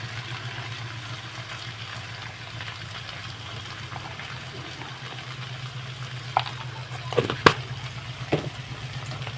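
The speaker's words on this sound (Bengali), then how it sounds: "এখন কিন্তু আদা রসুনটা ভালোভাবে একটু পেঁয়াজের সঙ্গে কষিয়ে নেব" Ginger and garlic sautéing with onion in a home kitchen pan for a fish curry, giving a steady soft sizzle and bubbling hiss, with a few brief louder clinks and stirring scrapes near the end.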